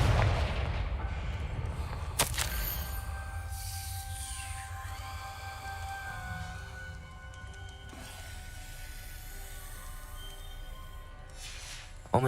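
Confringo fire spell explosions in Hogwarts Legacy, heavy booming blasts with a sharp crack near two seconds, rumbling low end and ringing magical tones trailing over a dense, continuous game soundscape.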